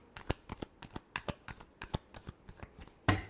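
Tarot cards are shuffled in a quick run of about a dozen crisp riffling slaps, close and quiet, ending in one louder snap.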